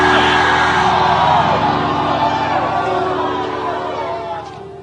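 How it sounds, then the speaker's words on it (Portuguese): A church congregation shouts loudly together, a dense roaring crowd of voices that stays strong and slowly fades over several seconds. "Grita, mas grita alto. Grita!"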